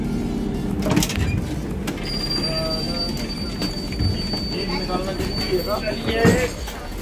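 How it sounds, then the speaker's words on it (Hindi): Indian Railways passenger train at a station, with a steady rumble of wheels and a faint high squeal running through the background, occasional knocks and clanks over the ongoing station ambience. "तो गाइस जिस ट्रेन में हम ट्रैवल करने वाले हैं वो ट्रेन जो है स्टेशन पहुंच चुकी है"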